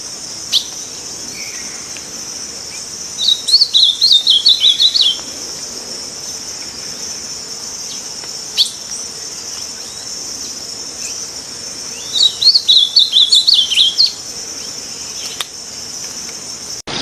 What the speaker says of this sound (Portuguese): Azulão.